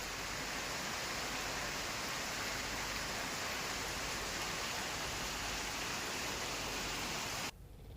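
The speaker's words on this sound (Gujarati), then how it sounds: "આજે સવારથી વરસાદનું આગમન થયું છે।" Rain falls in Kutch in a dense, unbroken hiss, loud and even throughout, cutting off abruptly just before the end.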